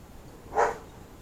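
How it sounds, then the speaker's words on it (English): A single short bark from Jess, a dog out at the bottom of the garden, sounding distant and fairly faint against quiet outdoor background. "Is Jess barking?"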